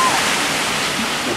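Continuous broadband water roar at the Træstammerne log flume in Fårup Sommerland, the boat braking into the water splash zone, loud and steady throughout with no talk over it.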